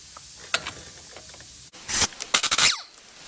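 A ratchet loosens bolts while the CV axle comes off a 2010 Chevrolet Silverado. A few scattered clicks lead into quick, close bursts of rapid ratcheting near the end.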